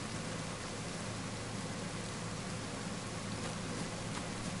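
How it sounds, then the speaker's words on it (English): Steady rain pours down in the survival video game DayZ, a dense, even hiss of falling water that holds unbroken and fairly loud throughout, with no voices over it. "It's fucking raining, that is not good."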